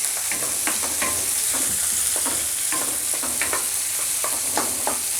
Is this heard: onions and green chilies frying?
yes